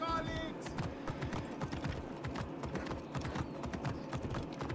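Horse hooves pound in a fast galloping clip-clop in the video game Assassin's Creed Origins, a steady, busy rhythm throughout with game sounds and a voice mixed underneath.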